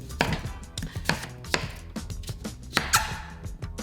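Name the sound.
cleaver chopping pumpkin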